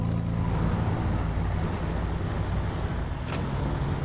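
A low engine drones steadily, a deep rumbling hum of a 2017 Chevrolet Colorado ZR2 pickup truck in the video game SnowRunner, cruising along in all-wheel drive without talk.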